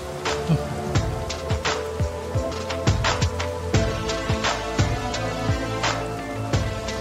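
Steady rain pattering on a hard surface, with scattered heavier drips and splashes landing close by throughout; no voices.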